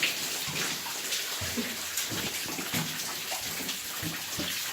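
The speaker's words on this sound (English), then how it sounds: "Shit ton of water coming down again." A heavy flow of water pours and splashes down inside an old mine adit with a thin ore vein, a loud, steady rushing with irregular heavier splashes, close by.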